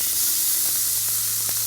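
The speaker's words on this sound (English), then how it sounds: "That sizzle." Steak sizzling in a hot pan, a steady broadband hiss with faint crackles running evenly throughout, close and continuous with no talk.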